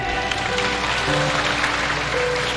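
Congregation applause during a church healing service, a dense wash of clapping over a sustained hum of tones, steady and fairly loud for a few seconds.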